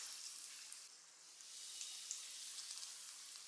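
Chicken drumsticks deep-fry in hot oil, giving a faint, continuous hiss of bubbling sizzle with small pops, steady and quiet throughout.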